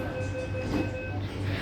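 MTR Tuen Ma Line C-train pulling out of a Hong Kong station, a steady low rumble and hum from the rail car with a faint high whine, close and continuous.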